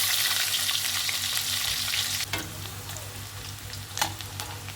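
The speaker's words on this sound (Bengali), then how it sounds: "এখন এতে পরিমাণ মতো তেল দিয়ে দিলাম, দিয়ে দেবো দারচিনি, এলাচ, দিয়ে দেবো পেঁয়াজ কুচি" Chopped onion frying in hot oil with cinnamon and cardamom, a steady close sizzle with a few stirring scrapes and clatters partway through, no talking.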